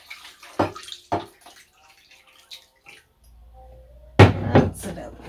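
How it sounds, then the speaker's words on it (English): Acid-laced soak water is poured into a dye bath to top it up, with two short splashing pours near the start and a louder double pour toward the end, separated by quiet handling noises. "I'm going to use my soak water, because it's already got acid in it, to top up"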